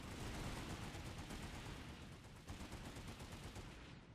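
Infantry rifles fire bursts at a target during a company burst-fire drill, heard as dense, continuous distant crackling gunfire that runs the whole time without a break.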